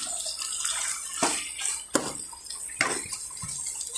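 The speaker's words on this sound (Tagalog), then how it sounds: "Lagyan natin ng konting tubig guys kasi natutuyot siya guys." Water poured into a cooking pot on the stove, a steady splashing hiss with a few sharper bursts of pouring, close and fairly loud, no voices.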